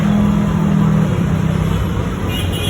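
Road traffic passing below an overpass near a mall in Manila, a steady broadband rumble of cars and buses with a low engine drone, continuous and fairly loud throughout.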